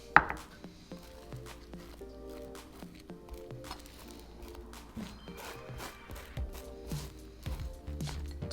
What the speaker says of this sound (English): Just going to evenly smear it all over each side of the sandwiches